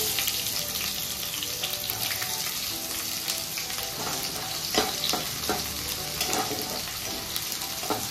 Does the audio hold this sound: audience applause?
no